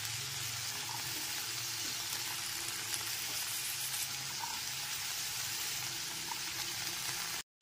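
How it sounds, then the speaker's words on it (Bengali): Pumpkin and drumstick pieces fry in a pan over a medium gas flame, giving a soft, steady sizzle that holds evenly throughout, fairly quiet with no voices. "কুমড়ো আর সজনে ডাঁটার টুকরোগুলোকে খুব ভালো মতো ভেজে নিতে হবে।"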